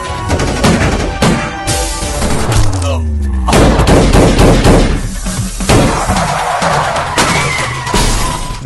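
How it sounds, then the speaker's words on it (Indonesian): Gunfire from a shootout in a city area in an Indian film, with repeated rapid bursts and single loud shots, crashes and thuds over a dense action soundtrack, close and loud throughout. "mereka melakukan baku tembak di area kota"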